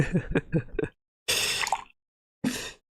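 Gulps and swallows of drinking water near the microphone, a quick run of sips followed by two longer noisy drinks separated by silence.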